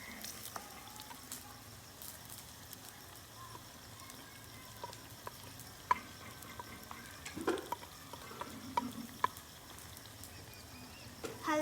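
Spices stirred into fried carrots and potatoes for a carrot and potato curry, with a faint low sizzle under scattered spoon clinks and scrapes that grow busier toward the end.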